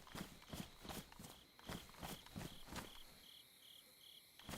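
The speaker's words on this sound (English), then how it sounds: "I hear some crickets." Crickets chirp in a regular pulsing rhythm in the DayZ survival game, a faint, steady insect trill heard alongside a series of evenly spaced footsteps.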